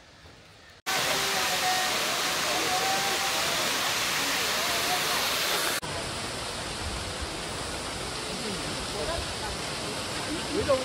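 A waterfall on Jeju Island rushes as a dense, continuous roar close by, starting abruptly after a quiet moment and shifting slightly in tone midway.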